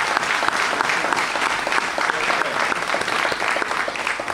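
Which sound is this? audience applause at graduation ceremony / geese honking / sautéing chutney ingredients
audience applause at graduation ceremony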